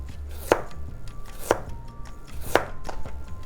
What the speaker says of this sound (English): we're just going to slice some of this ginger up